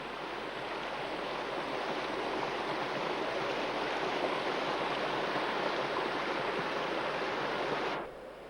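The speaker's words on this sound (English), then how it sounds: "We're just walking up to the top of that beautiful waterfall where we've been swimming." Wangi Falls in Litchfield, Australia, a steady broadband roar of falling water heard near and loud, constant throughout before abruptly dropping in level at the very end.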